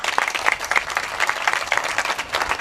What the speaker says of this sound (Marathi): एकदा बाळासाहेब भावानी मस्के परिवारासाठी जोरदार टाळी वाजवा.